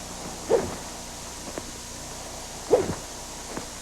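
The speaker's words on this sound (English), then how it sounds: "A good swing sounds like this." Two quick swishes of a golf club cutting through the air a couple of seconds apart, each brief and close with a sharp peak, over a quiet background without speech.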